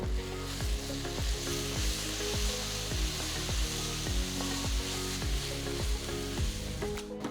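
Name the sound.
onions sautéing with ginger garlic paste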